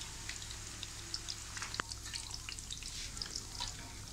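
Eggplant pakoras fry in oil over a low flame, giving a steady faint crackle and sizzle with scattered tiny pops and one brief sharper tick, no voices.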